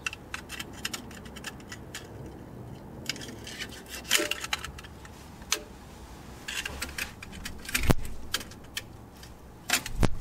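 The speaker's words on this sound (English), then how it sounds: "remove this rubber bushing just with a sharp knife. So you're just gonna cut it." A sharp knife cuts a rubber control arm bushing on a Nissan Xterra or Frontier, making irregular clicks, scrapes and taps of metal and rubber up close.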